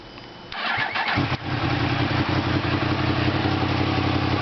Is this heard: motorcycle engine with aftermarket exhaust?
yes